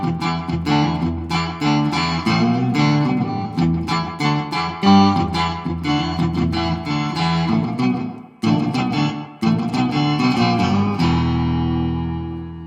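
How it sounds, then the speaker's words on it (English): Electric guitar run through a Pitchfork pedal for a funky clavinet-like tone, choppy rhythmic strummed chords played close and loud, with a couple of brief breaks before a final sustained ring. "The pitchfork gives you kind of a clav sound if you want to."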